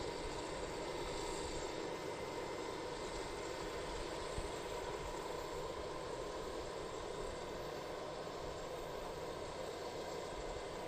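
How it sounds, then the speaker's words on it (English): An Allegiant airliner taxis toward the end of the runway at Harrisburg's airport, its jet engines a steady, faint, distant roar with no voices. "Allegiant's still heading out to the end of the runway."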